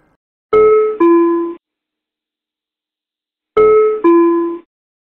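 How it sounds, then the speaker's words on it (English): A two-tone ding-dong chime in an ATR aircraft cockpit signals an interphone call, sounding twice about three seconds apart, clear and close with brief silence between. "The doorbell sounds when the cabin crew or the mechanic is calling on the interphone."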